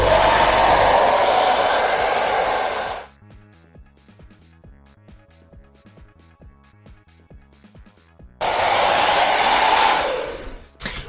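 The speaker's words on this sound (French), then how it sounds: "Et je vais sécher ça." Hair dryer fitted with a diffuser drying hair, a loud close whooshing blast that cuts off for several seconds, leaving quiet ticking handling noises, then roars back on before stopping again.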